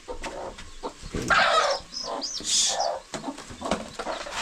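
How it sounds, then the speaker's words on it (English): Hens with their chicks cluck and call nearby in a farmyard, a run of loud, close clucks and short cries rising and falling over a few seconds with no talk. "We have some hen-laid chicks here."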